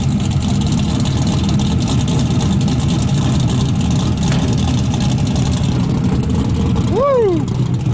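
A Chevrolet C10 squarebody pickup's engine with NASCAR stock-car exhaust tubes rumbles loud and steady at close range, ending in a brief rising whoop from a voice.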